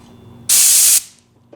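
A brief, loud burst of compressed air rushes from an air hose for about half a second and then cuts off sharply, close up in a quiet garage-like space.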